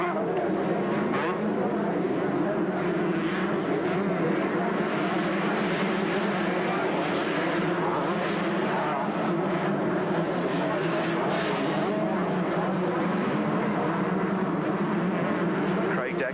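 Yamaha YZ125 motocross bikes race in a 1983 Yamaha Gold Cup heat near Sydney, their two-stroke engines a steady, dense drone from a distance that holds throughout with no pause.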